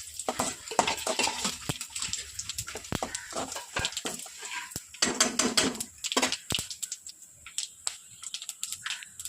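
Whole spices such as fennel and cinnamon stirred in hot oil, a run of close, sharp scraping and clinking strokes against the pan over a soft background sizzle, with no talking.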